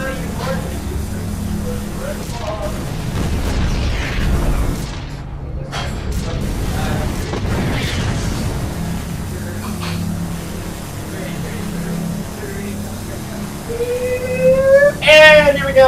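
Explosions and crashing booms from buildings being destroyed in StarCraft 2, a steady rumbling barrage over about fifteen seconds, with a bright synthetic chirp near the end.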